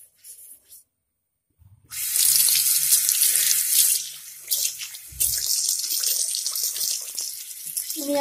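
Tap water runs into a freshly cleaned washbasin to rinse it, a close, splashing stream that starts after a brief quiet pause, dips for a moment midway, then keeps pouring steadily to the end.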